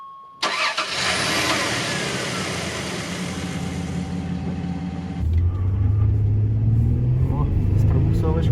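Dodge Dakota V6 pickup truck starts and pulls away, a sudden loud engine rumble that holds steady, then deepens into a heavier low drone as it drives off.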